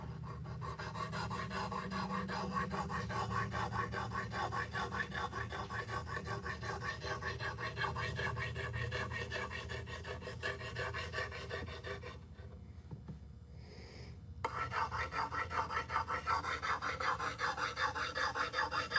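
Steady, continuous rasping strokes of a small sharpening stone worked along a katana edge, close and fairly loud, with a brief pause partway through before the strokes resume. No one speaks.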